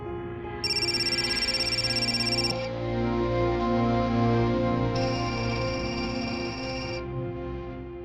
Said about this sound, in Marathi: कम ऑन यार क्यू फोन उचल